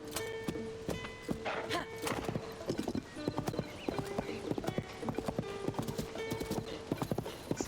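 Horse hooves clip-clop in a steady, even rhythm as a video game horse travels over forest ground, close and clear with a low ambient backdrop.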